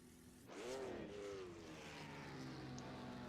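A Ferrari sports car in a 1964 sportscar hillclimb racing game at Mont-Dore, its engine suddenly roaring up in pitch at launch, then holding a loud, steady drone as it pulls away.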